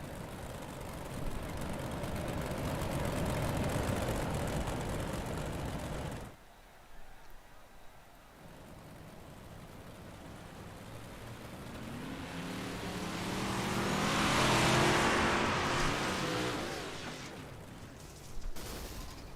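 Cars circling a dirt track during a short-track racing night ahead of a 50-lap BB Mods feature, engines droning at a distance with a louder swell as the field passes, set against crowd and ambient noise.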